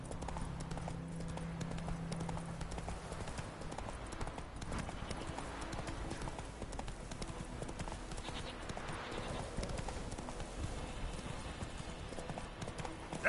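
Roach, the horse in The Witcher 3: Wild Hunt, gallops in a dense, continuous drum of hoofbeats that holds steady throughout, loud and close, with little else breaking through.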